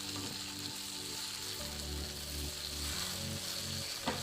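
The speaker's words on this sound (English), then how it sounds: "it's just frying them together with the other ingredients" Steady sizzling of Indomie noodles frying in a pan with other ingredients, a continuous crackle with a faint clink of a utensil near the end.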